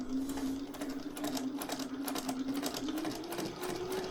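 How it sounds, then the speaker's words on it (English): A Singer 401A sewing machine running a straight stitch, its motor giving a steady close whirr with rapid needle clatter throughout, no talk over it. "Hold the thread while I drop the first stitch, and as far as I can tell, we should be on a straight stitch."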